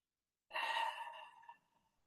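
A single soft exhale, airy and close, breathed out during a yoga stretch. It comes after a half-second of silence and fades within about a second.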